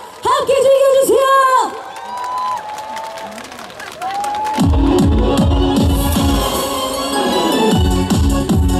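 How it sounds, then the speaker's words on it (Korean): Festival audience at the 50th Uiryeong Hong Ui-jang-gun Festival in Uiryeong, South Korea, applauding and cheering loudly around an outdoor trot music stage, with whoops and shouts over sustained crowd noise and music. "여러분 큰 박수와 함께 즐겨주세요."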